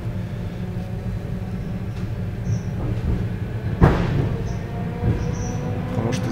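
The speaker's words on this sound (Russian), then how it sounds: "Встречная электричка «Ласточка Комфорт»." A steady low rumble of an oncoming Lastochka electric commuter train running on rails, with a sharp clank midway and faint squeals over the constant mechanical hum.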